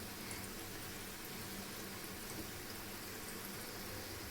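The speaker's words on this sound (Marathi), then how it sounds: "मंद फ्लेमवर आपण गुलाबजामुन तळून घेणार आहोत।" Gulab jamun made from Chitale mix frying in oil over a low flame, giving a steady, even sizzle that holds unbroken throughout without any voices.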